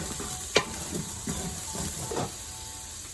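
Onion, potato and chopped cabbage cook in a pan with a steady soft sizzle and hiss, broken by a few scraping stirs of a spatula close by.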